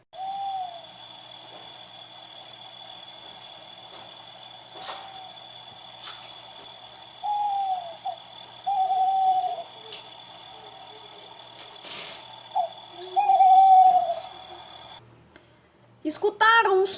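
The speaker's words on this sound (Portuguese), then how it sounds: "Então vamos ouvir o som da coruja?" Deep, short owl hoots repeat at intervals over a steady high insect-like drone, with faint background sounds between calls.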